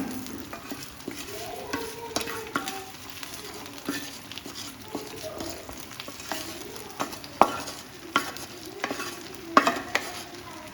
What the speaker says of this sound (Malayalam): നമ്മൾ താളിപ്പ് ഒഴിച്ചു കൊടുക്കുകയാണ്